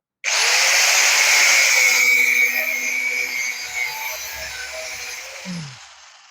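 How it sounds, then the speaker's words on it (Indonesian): A corded electric grinder runs loud and steady with a high, harsh whine for about five seconds, then spins down with a falling tone near the end. No voices are heard. "kita menggunakan gerinda ini ya, yang menggunakan kabel"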